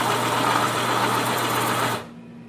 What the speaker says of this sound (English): And now let me go sharpen in the heavy duty iPoint sharpener.